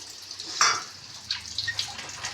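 A small splash of water poured into a pan of egg curry, a brief pour with a few drips and light clinks, close and fairly quiet.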